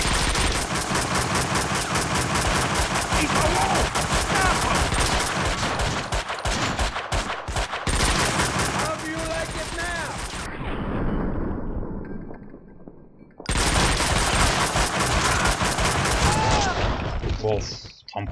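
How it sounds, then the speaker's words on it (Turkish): AK-47 Kalashnikov fire in the video game Max Payne 2: dense, loud bursts of automatic gunfire running almost continuously, broken by a brief lull near the middle, then resuming hard until the end. "Of, tam kafadan vurduk Kalaşnikov'la. AK-47 ile."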